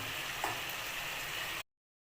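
Chicken pieces dropped into a boiling spice masala hiss with a steady, close sizzle that holds at an even level, then cuts out abruptly into silence near the end.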